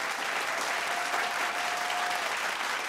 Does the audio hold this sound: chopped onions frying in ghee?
no